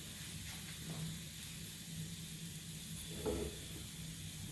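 Goan green mutton chops sizzle in a pan, giving a steady, close hiss of frying lamb that holds evenly throughout, with a brief louder crackle near the end and no voices.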